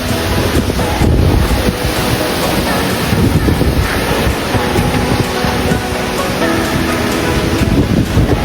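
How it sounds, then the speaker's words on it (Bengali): Strong storm wind roars steadily and loudly in open air, buffeting the microphone with constant rumbling gusts and a broad rushing hiss for the whole stretch, with no voices. "দেখো কি পরিমাণে ঝড় উঠেছে, চারিদিকে হাওয়া বইছে"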